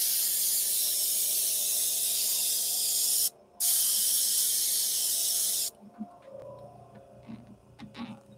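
An airbrush sprays paint for a comic book sketch cover in a steady, loud hiss, with one brief gap near the middle. It cuts off after about six seconds, leaving faint handling noises.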